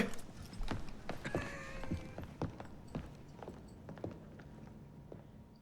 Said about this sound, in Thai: ลูอิส[[รถม้าของฉัน]] พร้อมไหม